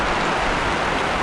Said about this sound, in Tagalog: Balaya po, napakalakas po ng ulan.